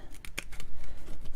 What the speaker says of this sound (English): we're going to cut it down to about as far as I want it to go, and then you're going to take and just cut across